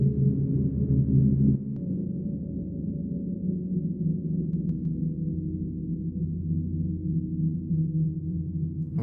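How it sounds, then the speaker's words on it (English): Deep drone made from a sample pitched far down and drenched in big reverb, a continuous low humming ambient pad with a slight shift in tone early on, steady and sustained without any voice. "We have some really nice drony sounds just at this little portion here."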